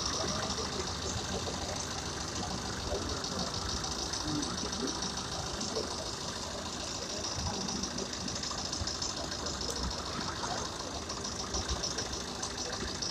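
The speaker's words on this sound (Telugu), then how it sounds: "ఒకసారి అందరు ఇంజిన్ నాయిస్ కూడా మనం అబ్జర్వ్ చేయొచ్చు" A diesel RTC bus engine idles steadily at a depot, a dense continuous rumble with a faint knocking texture that holds level throughout without pause.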